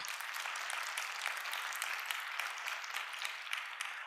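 A church congregation applauds the pastor's wife, steady dense clapping filling the room at a moderate distance with no voices over it.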